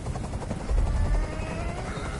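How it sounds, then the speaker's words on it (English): Helicopter rotor noise from the Detroit: Become Human video game, a steady low throbbing drone that swells briefly louder partway through, heard alone without voices. "Tell that helicopter to get out of here"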